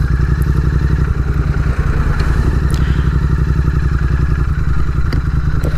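A Royal Enfield GT 650 motorcycle engine on a ride near Maredumilli: a loud, close, steady throbbing rumble that runs without a break for the whole stretch, with no voices over it.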